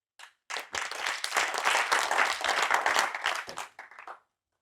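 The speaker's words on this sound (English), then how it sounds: "So please give a round of applause for Raf" An audience claps for a guest speaker at a corporate innovation day on the digital energy transition; dense, steady applause swells quickly, holds for about four seconds, then thins out with a few scattered claps.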